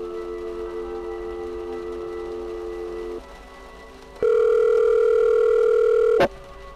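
A telephone dial tone hums steadily in a horror point-and-click game, drops out briefly, then returns as a louder, higher tone that cuts off with a sharp click near the end.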